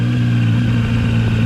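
ZONTES 703F motorcycle engine running under smooth throttle, a loud, steady low droning hum with strong engine harmonics, close and continuous without talk.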